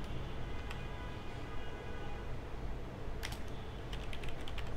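Quick bursts of keystrokes on a computer keyboard, faint and close, over a steady low hum of room or computer noise, with a cluster of clicks near the end.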